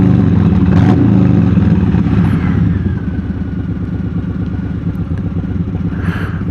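Motorcycles ride together on a road, one of them a Ducati Street Fighter, giving a loud, steady engine drone that eases slightly partway through, with rattly mechanical texture and no talk.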